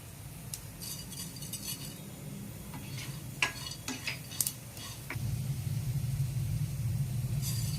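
Ingredients for Kolhapuri misal are sautéed in a little oil in a pan, with scraping spoon strokes and metallic clinks over a soft sizzle that grows louder and steadier in the final seconds.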